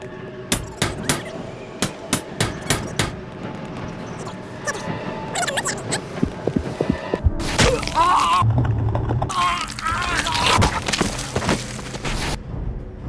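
Crowbar blows in Manhunt 2 land as a series of sharp thuds and thunks, quick bursts of repeated hits followed by denser crashing impacts, loud and close within game ambience.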